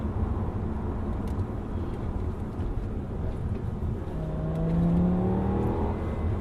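An Audi S6 with a V10 engine hums steadily from inside the cabin while driving, a low drone that rises in pitch as it accelerates near the end.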